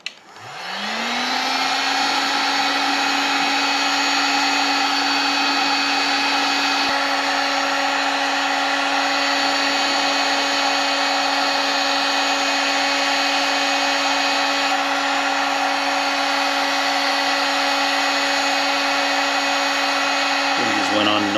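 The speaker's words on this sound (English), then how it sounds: "using my heat gun" A heat gun runs continuously while warming a hose for a SEAFLO Series 55 raw water pump install, spinning up at the start into a steady, loud whine and fan roar that holds for about twenty seconds.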